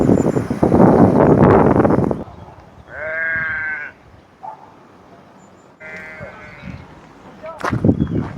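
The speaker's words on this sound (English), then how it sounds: "Sometimes sheep sound like a steel saw cutting through concrete." Two drawn-out sheep bleats, clear and fairly close, separated by quiet stretches, with wind rumble and buffeting on the microphone before and after.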